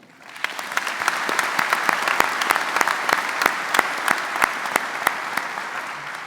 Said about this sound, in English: let's hear a big round of applause for these wonderful people